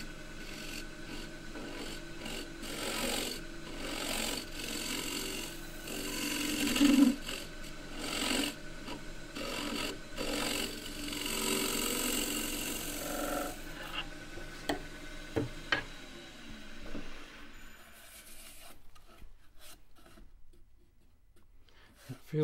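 Woodturning gouge re-turning the inside of a roughed-out wooden cylinder on a lathe, a steady close scraping and rasping hiss that runs continuously, then breaks into short intermittent cuts and trails off near the end.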